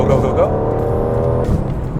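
An Aston Martin Vantage Roadster pulls away with a strong, rising engine roar, close and loud for two seconds, while a voice speaks over it.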